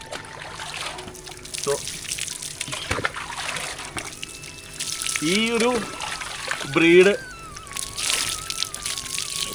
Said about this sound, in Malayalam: ഇപ്പം പിടിച്ച് കുളിപ്പിക്കുമ്പോൾ അത്ര സന്തോഷമായിരിക്കില്ല